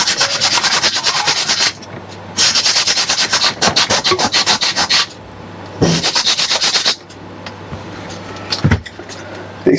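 A Phase5 BPPC2 circuit board being sanded by hand: loud, close rasping strokes in long bursts with short pauses between them.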